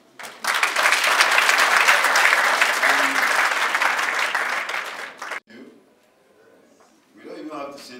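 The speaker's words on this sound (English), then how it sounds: "A round of applause." An audience at the closing ceremony of the NISDP 5th Phase Jos Area Office breaks into loud, dense clapping for about five seconds, then it stops abruptly and a voice speaks briefly afterward.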